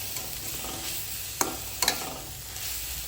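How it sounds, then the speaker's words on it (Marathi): Jaggery stirred into a sweet filling frying in a pan for karanji, a steady soft sizzle throughout with a couple of sharp spoon scrapes against the pan, close and without speech. "आणि आता हा गूळ छान मिक्स करून घ्यायचा आहे यामध्ये."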